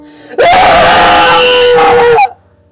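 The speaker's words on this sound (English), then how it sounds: "begins screaming at the top of his lungs" A man screams at the top of his lungs in a long, loud, sustained cry lasting nearly two seconds, rising sharply and cutting off abruptly, with no other sounds around it.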